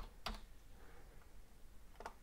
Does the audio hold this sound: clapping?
no